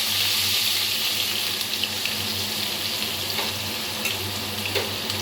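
Ground onion paste goes into a pan where chicken and whole cumin are frying until reddish, giving a loud, steady, close hiss of sizzling oil that runs unbroken with no voices.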